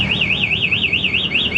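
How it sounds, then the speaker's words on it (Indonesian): An MP one-way alarm on a Honda Supra GTR motorcycle sounds nearby: a loud, steady electronic siren that wobbles rapidly up and down in pitch, running continuously and alone. "Tapi ketika ada pembobolan dari kontak, maka alarm ini tetap bunyi ya."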